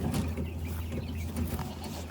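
A goat bleats briefly on an off-grid farm in Alaska, a short, rough cry close by over a low, steady background hum.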